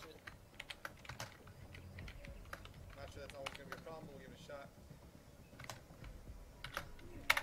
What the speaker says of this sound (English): While I'm typing this